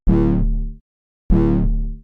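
Heavy bass tone from a DX7 synthesizer with volume and filter cutoff envelopes, played as two separate notes that start bright and loud, then darken and fade over under a second each, with a short silence between them.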